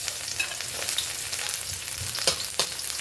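Garlic frying in a pan for a green chili coconut dish, a steady close sizzle with a few clinks and scrapes of a utensil against the pan.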